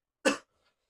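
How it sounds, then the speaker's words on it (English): A single close cough, one short harsh burst that fades quickly into silence. "It's a cough."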